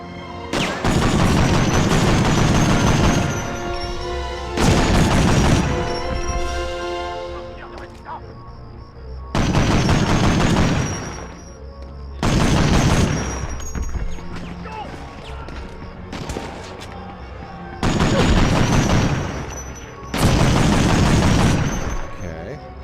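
Bursts of automatic machine gun fire in the World War II shooter Medal of Honor: Underground, loud sustained volleys lasting a few seconds each, repeating about five times with brief gaps and a voice talking between them.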